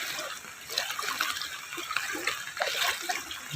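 Steady rushing of a strong river current in flood in Kerala, a continuous broadband wash with gentle surges, heard alone without voices.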